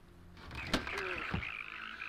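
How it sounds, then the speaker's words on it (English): Frogs croak in the video game World of Warcraft Dragonflight: a few close, sharp croaks rise over a soft, steady ambient game background. "Let's release the frogs, let's do it."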